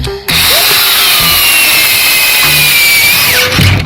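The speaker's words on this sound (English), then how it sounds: "I'm gonna go ahead on and drill all these holes out" A power drill whines steadily and loudly while boring a row of holes during garage rewiring, with brief pitch dips as the bit catches and frees, running nearly nonstop.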